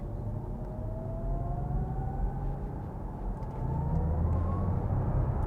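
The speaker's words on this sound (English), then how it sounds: "There is a lovely sound from the car." An Audi e-tron GT electric car gives off a rising synthetic whine that climbs smoothly in pitch over low road rumble, heard from inside the cabin at moderate volume without talk.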